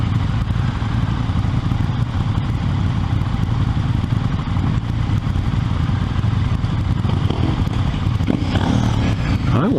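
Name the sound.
KTM 390 Duke motorcycle engine while riding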